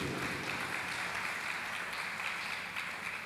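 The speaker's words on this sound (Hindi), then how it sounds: "ताली बजा कर प्रभु को स्तुति करो" A church congregation at a prayer retreat claps hands in praise, a faint, steady wash of many hands heard from a distance for a few seconds with no clear talk over it.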